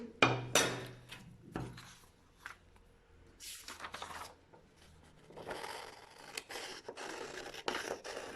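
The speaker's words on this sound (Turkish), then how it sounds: "makasla kesiyorum" Scissors snip and crunch through paper, cutting out a drawn circle, in a series of close cuts, with rustling and scraping between the sharper snips.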